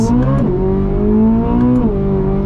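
Naturally aspirated engine of a 2023 Corvette Z06 revving hard toward its 8,600 RPM redline, loud and close, with a steady rising harmonic howl and two brief dips as the pitch shifts.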